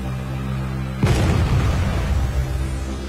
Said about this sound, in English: we'll show an artillery strike in action.